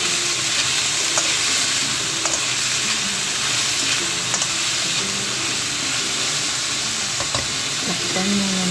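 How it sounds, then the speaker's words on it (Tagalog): Bitter gourd (ampalaya) stir-frying in oyster sauce, a constant close sizzle and hiss with occasional spatula scrapes and clinks against the pan as it is tossed. "isunod ang ating ampalaya. Ayan. Halo-haloin lang siya hanggang sa lumambot."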